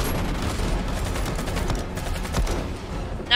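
Gunfire in the Fortnite video game as players shoot at the cube, a dense, steady volley of shots that continues without pause, with no talk over it.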